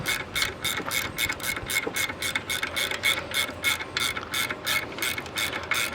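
Rapid, steady ratchet clicks as a tool is cranked down while compressing a valve spring during valve stem seal replacement on a 1999–2004 Mustang GT, a close, even mechanical clatter with no talk.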